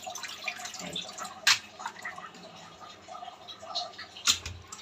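Salted taro is rinsed by hand in a bowl of water, making close sloshing and splashing with a couple of sharper splashes, moderately loud, with no talking.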